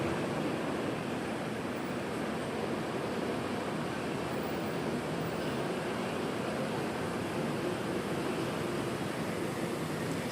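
Steady outdoor wind rushes on without a break, a broad, even roar that buffets the microphone, with trees swaying in the breeze.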